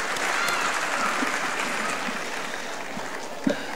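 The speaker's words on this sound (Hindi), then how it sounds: "मैं चाहूंगा विद्यालय परिवार के लिए आप लोग जोरदार ताली बजाकर इन्हें आशीर्वाद प्रदान करें।" A school audience claps loudly at a ceremony honouring a teacher, a dense steady wash of applause with a brief sharp bump near the end and no voices over it.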